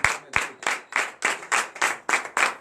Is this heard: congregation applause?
yes